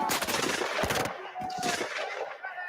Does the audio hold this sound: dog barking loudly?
no